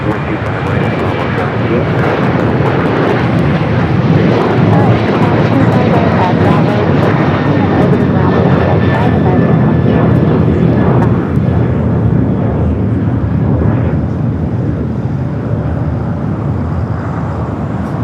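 Aircraft engines roaring at Los Angeles LAX airport, a loud sustained jet drone with a faint whine, close and unbroken across the whole stretch; a voice talks faintly underneath.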